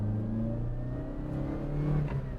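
Chevrolet Spark 1.0 gasoline city car accelerating from a start, a steady mid-pitched engine drone rising slightly in pitch, continuous and fairly close with no talking.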